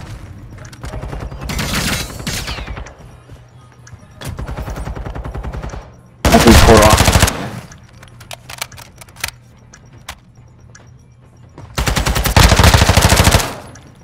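Loud bursts of automatic gunfire from a shooter video game come in several separate volleys, with quieter scattered shots and clicks between them.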